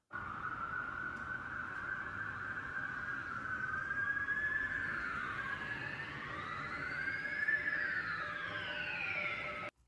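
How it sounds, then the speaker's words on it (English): A police siren sample in an electronic music track, its wailing tone sweeping up and down continuously and loudly for the whole stretch, heard alone without voices. "So we've got a police siren that goes up and down."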